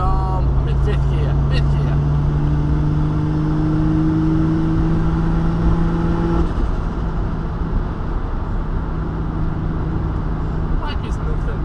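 A single-turbo Toyota Supra strapped to a dyno accelerates in fifth gear, its engine note climbing steadily and loudly before dropping off into a lower rumble, with someone talking over it.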